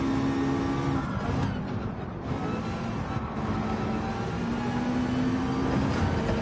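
Race car engines in Gran Turismo 7 at Road Atlanta, a loud steady droning engine note with shifting pitch as the car brakes and accelerates, continuous throughout.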